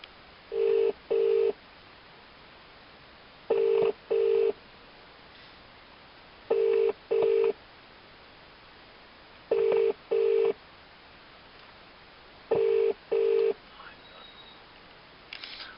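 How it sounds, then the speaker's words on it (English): Ringback tone of an outgoing phone call played through an Eonon D5166ZA car stereo fitted in a BMW X5 E53: repeated pairs of short electronic rings, five double bursts spaced about three seconds apart over quiet cabin hiss. "So it's now going to ring her."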